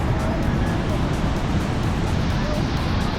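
A loud, constant roar of rushing water at Niagara Falls fills the clip, broadband and unbroken, like a powerful torrent close by with wind buffeting the microphone.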